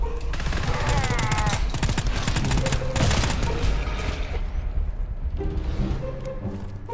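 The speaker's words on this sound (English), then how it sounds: "And also something shooting." Rapid automatic gunfire from the co-op shooter game GTFO rattles in dense, loud bursts, easing off toward the end as other game sounds linger.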